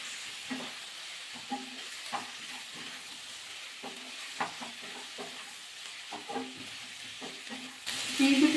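Spiced pui greens curry with green chillies being stirred in a frying pan: soft, intermittent scraping strokes over a faint background hiss, with a louder sizzle swelling at the very end.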